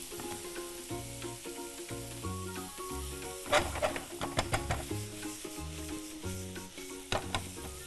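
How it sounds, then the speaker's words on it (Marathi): Chopped onions sautéing with salt in a pan for Kolhapuri misal, giving a soft, even sizzle with occasional stirring scrapes, close and fairly quiet, while steady tonal background music plays throughout. "ह्याला आता आपण व्यवस्थित जरासं परतून घेऊन थोडंसं मीठ आपण टाकून देऊया"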